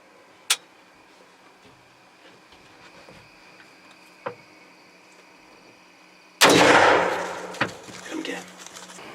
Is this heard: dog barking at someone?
no